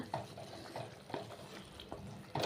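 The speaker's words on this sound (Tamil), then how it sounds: "குழம்பு வந்து லைட்டாக கொதித்து வரட்டுங்க" Curry leaf and garlic kuzhambu simmering gently in a pot, with soft bubbling and occasional light pops over a low, steady background; no talking.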